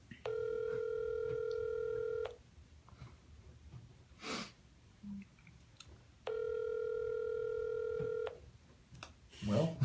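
A telephone call rings out with two long, steady ringback tones separated by a pause, with faint breathing and rustling noises in the quiet gaps.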